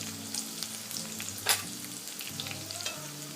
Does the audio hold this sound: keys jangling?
no